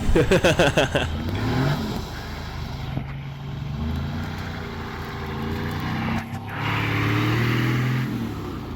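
A Nissan Patrol 4WD with a front locker revs hard through swamp bog mud, its engine loud and close, surging and droning continuously with a brief dip midway.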